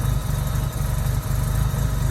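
A cold 1958 Jaguar XK150S roadster engine idles smoothly and steadily, with a deep, even low rumble and soft rhythmic pulsing throughout, close by and without any voices.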